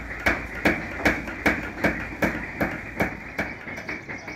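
A craftsman's hammer beats silver or gold leaf in a steady, rapid rhythm of about eleven dull, close thuds, evenly spaced and alone without voices.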